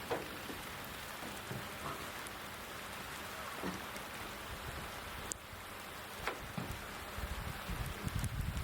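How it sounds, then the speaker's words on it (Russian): Rain falling on a roof during chimney cap installation, a steady soft patter of drops with occasional sharper taps and clicks, fairly quiet and continuous with no talk. "А нас, смотрю, дождь накрывает потихонечку."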